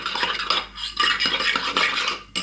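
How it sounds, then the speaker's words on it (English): Sweet chilli chicken marinade being stirred with a utensil in a bowl, close scraping and clinking in quick bursts with brief pauses, no voices. "So I'm just going to give it a stir first."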